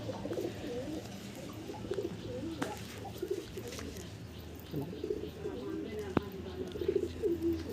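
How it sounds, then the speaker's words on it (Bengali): A male pigeon coos in soft, repeated low phrases close by, over a constant background hum, with a few faint other bird sounds mixed in. "গাইস এটা নর পায়রা,"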